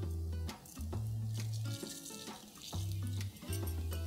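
Asafoetida and cumin seeds dropped into hot oil, giving a close, steady hissing sizzle with a few sharp crackles and background kitchen hum, no talking.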